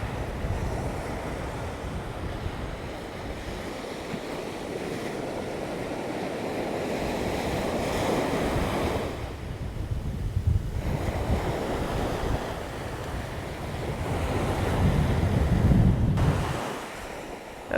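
Surf rolls in continuously at Bamboo Beach on Koh Lanta, Thailand, with wind buffeting the microphone; the wash of waves swells and eases in long surges, loudest toward the end.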